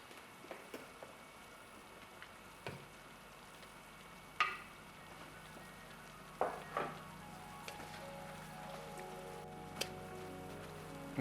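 Pancit sauce boiling in a pot on the stove, a soft steady bubbling hiss with occasional small pops and clinks, fairly quiet and with no voices.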